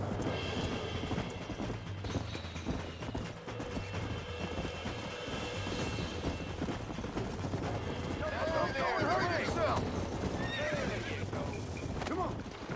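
A horse in the Red Dead Redemption video game whinnies loudly over a rapid clip-clop of galloping hooves, with voices talking over the action.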